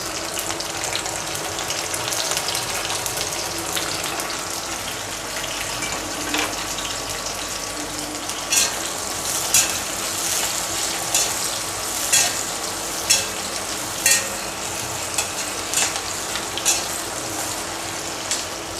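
Sliced onions and green chilies fry in a pan, making a steady close sizzle throughout, with a run of sharp scraping clicks as a spatula stirs them in the later half.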